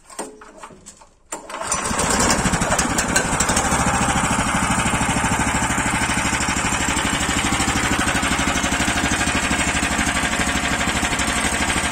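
After a few quiet seconds of fiddling with ignition, choke and fuel valve, a small motor engine starts and immediately settles into a loud, continuous, rattling run close by.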